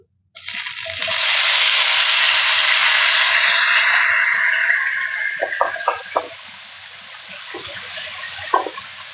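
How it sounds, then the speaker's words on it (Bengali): Bati kebab hits hot mustard oil with a sudden loud burst of sizzling that hisses steadily and slowly fades, followed by a few soft utensil clicks near the pan. "দেখেন তেলটা গরম হয়ে গেছে আমি এখন কাবাবটা দিয়ে দিব"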